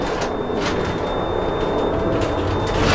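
Carriage door on a Trans-Siberian train in Russia sliding open between cars, a brief rumble and clunk over the steady loud roar of the moving train.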